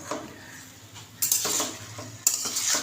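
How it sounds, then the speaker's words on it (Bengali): Pointed gourd stir-fried in a pan with a little water, a spatula scraping and clattering against the metal under a steady sizzle, with two louder bursts of frying hiss. "ভালো করে পটলটা কষে নিচ্ছি"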